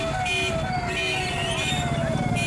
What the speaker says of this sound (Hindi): ट्रैफिक पूरा जाम।